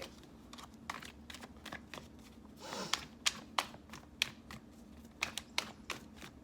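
Tarot cards being shuffled in quick riffles, a soft flurry followed by sharp individual snaps and flicks, close up with no talking.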